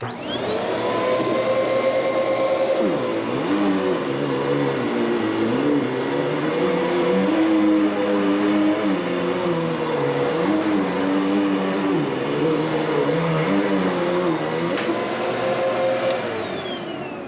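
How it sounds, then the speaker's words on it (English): A Bissell CleanView upright vacuum cleaner runs steadily and loudly up close, its motor whine holding a constant drone with wavering pitch as it is pushed across the floor, no talk over it. "So let's vacuum a little bit."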